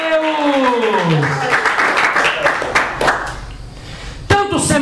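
Quick, dense hand clapping from a church congregation at a service in Florida Paulista, SP, rising under a preacher's speech and fading into talk, then a sharp shout near the end.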